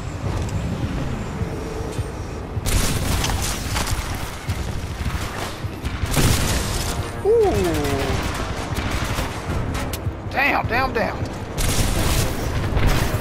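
Titanfall 2 combat with bursts of gunfire and booming explosions crowding most of the stretch, loud and dense, while a player talks over it.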